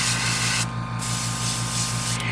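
An airbrush sprays small parts of a Bandai Hasegawa 1/72 Queadluun-Rau model kit, a loud close steady hiss that cuts out briefly once and resumes over a constant low compressor hum.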